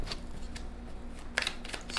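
Tarot cards shuffled by hand, faint soft rustling with a few quick crisp flicks near the end, quiet and close with no talk.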